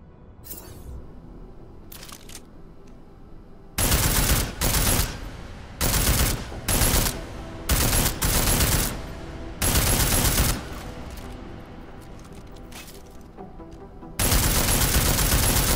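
Loud gunfire at a shooting range in Deus Ex: Mankind Divided, fired in dense bursts and rapid strings of shots separated by short quiet gaps, with a final sustained burst.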